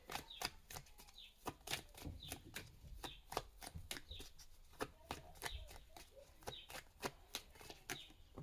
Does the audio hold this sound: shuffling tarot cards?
yes